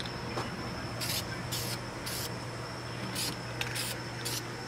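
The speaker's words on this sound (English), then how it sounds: "This is spray paint, by the way" Spray paint being applied to a wristwatch to turn it gold, several short bursts of aerosol hiss in a row, fairly close, over a steady low background hum.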